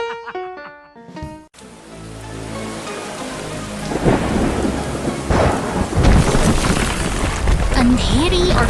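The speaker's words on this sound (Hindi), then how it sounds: "अंधेरी और तूफानी रात में प्रकृति ने अपना रौद्र रूप दिखाया है।" Loud thunderstorm at night in a cartoon scene about a yellow bulldozer and green cement mixer, with heavy rain hissing and rolling thunder building after a brief musical intro, growing louder and denser toward the end.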